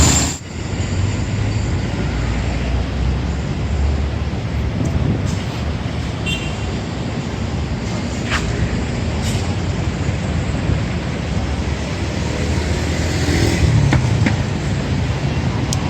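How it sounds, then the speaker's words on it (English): Busy morning street traffic in Makati, Metro Manila, with scooters and motorcycles passing; a steady, loud roar of engines and road noise runs without a break, with occasional brief higher-pitched engine whines. "A lot of traffic this morning. A lot of people on scooters. A lot of motorcycles."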